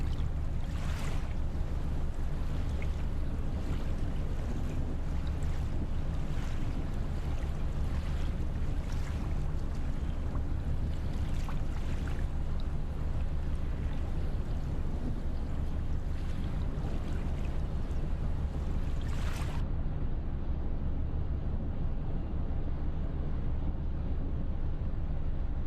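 A ship's engines drone low and steady at sea in the Nautic XP ship simulator game, with a constant rumble and wash of wind and water holding level throughout, no voices over it.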